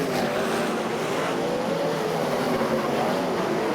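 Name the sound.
sprintcar racing engine at Charlton Raceway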